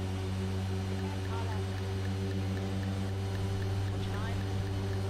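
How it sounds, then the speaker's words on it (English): Deep, steady drone of a racing car engine idling at low revs in the iRacing sim, its low harmonics holding constant and close for the whole stretch with no rise in pitch. "listen to how low the revs are."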